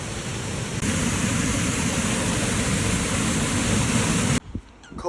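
Waterfall in the Rhondda valleys, a cold-plunge spot: a steady, loud broadband rush of falling water close by, continuous for about four seconds before cutting off abruptly.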